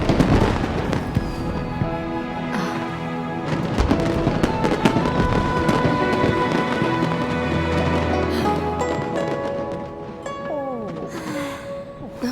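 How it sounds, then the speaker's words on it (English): Fireworks burst repeatedly during the Lantern Rite festival in the game Genshin Impact, a dense run of loud pops and crackles layered over festive music, with brief game character voices mixed in. "a firework that looks just like a pig!"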